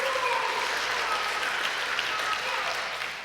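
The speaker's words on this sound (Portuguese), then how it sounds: "Você pode aplaudir o Senhor" A church congregation at a Sunday morning service claps in sustained, dense applause that fills the room steadily for about three seconds, fading slightly toward the end.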